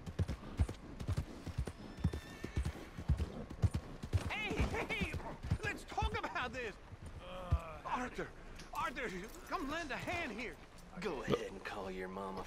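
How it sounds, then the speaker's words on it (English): A horse in Red Dead Redemption 2 walks slowly, its hoof clip-clops coming in a loose rhythm beneath game dialogue, with spoken voices covering much of the stretch. "Acalmar um bocadinho o cavalo, vamos andar devagarinho"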